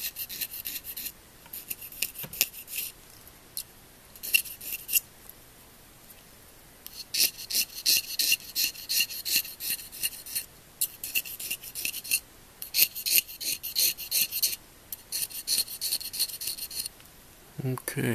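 A knife scrapes the heart of an oboe reed in repeated close, raspy strokes with brief pauses between bursts, and there is no talking.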